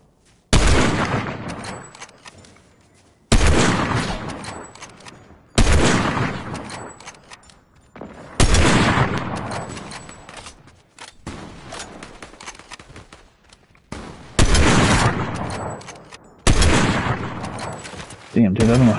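Loud, close bursts of gunfire from a Fortnite Zero Build match, fired in about seven separate volleys a few seconds apart, each a rapid crackle that tails off before the next, with player talk mixed in.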